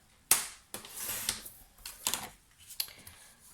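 Paper is cut down to size for a decorated notebook pocket, giving a series of sharp, crisp snips and clicks spaced irregularly, close and fairly loud, with no talking.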